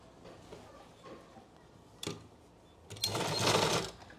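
A sewing machine stitches a seam in a circular umbrella palazzo, with faint ticking, a couple of clicks, then a louder whirring burst of stitching near the end.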